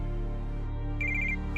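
Telephone ringing in a French-dubbed drama scene, a bright electronic ringtone pulsing in a short burst of repeated tones over a sustained musical background.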